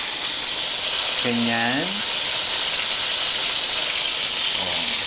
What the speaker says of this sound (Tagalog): Lagay natin sa ating kawali na may mainit na mantika.